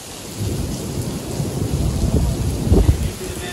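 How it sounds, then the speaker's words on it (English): Deep thunder rumbles through heavy rain at TD Ballpark during a Blue Jays versus Angels game delay, with the low roll building toward a louder peak near the end over constant rainfall. "there's lightning and thunder"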